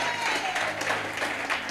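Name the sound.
church congregation applauding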